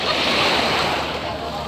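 Sea waves wash steadily onto the sand at Butterfly Beach in Tuen Mun, Hong Kong, a broad continuous surf roar close by with some wind buffeting the microphone.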